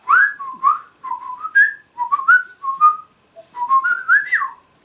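A person whistles a wavering, tuneful phrase, loud and close, in short gliding notes with brief gaps, alone without talk.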